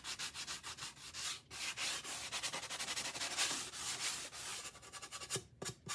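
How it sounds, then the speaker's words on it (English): Wood on a homemade play kitchen built from a nightstand is sanded smooth by hand, a steady close rasping rub in repeated back-and-forth strokes, with no talking. "then I sand it. I want to make sure that there's no splinters left on here."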